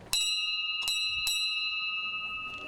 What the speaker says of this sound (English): The ringing of the bell symbolizes the start of the games